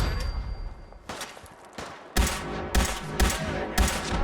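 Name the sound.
grenade explosions and gunfire against raiders in the video game Fallout 4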